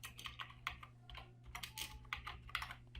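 Fast, uneven clicking of a computer keyboard as a search term is typed, close and crisp, in short bursts over a low steady hum.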